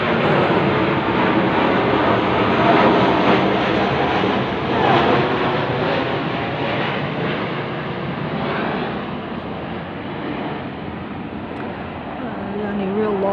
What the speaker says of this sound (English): Here comes a military controlling plane over my head.